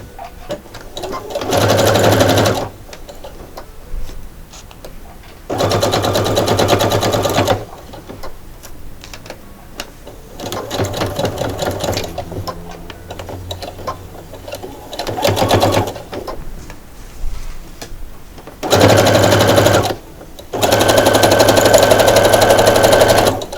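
A sewing machine hems a cotton dish towel in repeated loud bursts of rapid stitching, each lasting one to three seconds, separated by quieter fabric handling.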